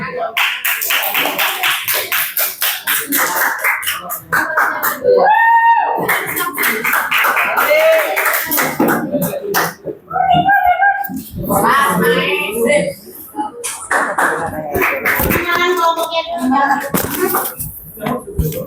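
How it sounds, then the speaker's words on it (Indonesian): A classroom of schoolchildren clapping for a group, brisk rhythmic applause mixed with a teacher and kids talking, plus a sung or chanted stretch, fairly loud and close throughout. "Oke, tepuk tangan."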